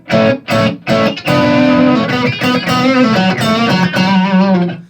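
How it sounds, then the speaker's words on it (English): An electric guitar played through an overdrive or distortion pedal rings out loud and close, with a few choppy chord stabs leading into a sustained, gritty chord that wavers and fades. "that's an overdrive or distortion pedal"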